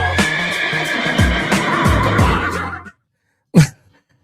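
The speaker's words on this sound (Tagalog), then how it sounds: "Kabayo!" A horse neighs in a long, loud, close whinny with shaking pitch, then breaks off abruptly into silence before a short final snort.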